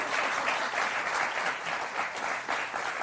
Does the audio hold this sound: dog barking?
no